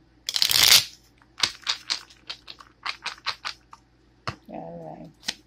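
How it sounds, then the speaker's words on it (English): Tarot cards shuffled up close, a loud opening riffle followed by a run of sharp, quick flicks and slaps, with a short tonal sound near the end. "One more shuffle."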